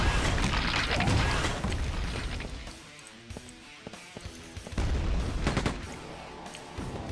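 Rocket launcher blasts in the shooter Quake 2, booming explosions with dense roaring noise at the start and again near the end, and sharp clicks and hits between them.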